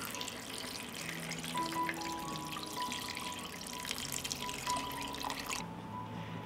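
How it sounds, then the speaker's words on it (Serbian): Water pours steadily into a pot over chopped potatoes and other stew ingredients for paprikash, a continuous close splashing rush that stops abruptly near the end. "Sipat ću vode da prekrije sve sastojke."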